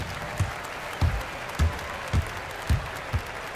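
Home crowd cheering in an NBA 2K17 basketball game between the Rockets and Bucks, a soft steady applause bed broken by about six short regular bursts of louder clapping.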